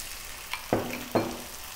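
Chopped tomato lands in a hot pan for a vegan tomato curry, giving two brief bursts of sizzling about half a second apart before settling into a faint steady frying hiss.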